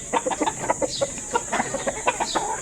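A Texas hen clucks in a quick series of short, throaty notes, close by and fairly loud, with no talking.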